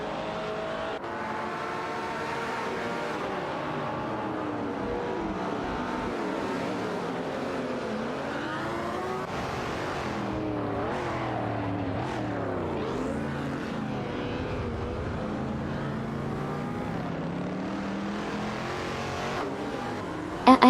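Race cars in an AI racing video game roar continuously as four cars contest positions, engines revving and shifting pitch as they accelerate out of corners, loud and steady throughout with no talk.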